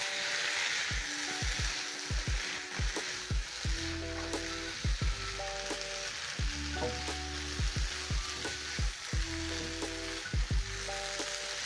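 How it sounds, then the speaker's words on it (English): Beef and french fries are stirred in sauce in a pan over low heat, a steady sizzle broken by repeated scraping and clacking of the utensil against the pan, close and continuous, with no talk. "So I'm going to stir in, and at this point I've reduced the heat to low."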